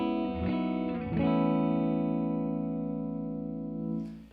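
An electric guitar through a 1967 Fender Deluxe Reverb tube amp with tape delay plays a few picked notes, then a sustained distorted chord rings out with echoing repeats, followed by a brief strum at the end.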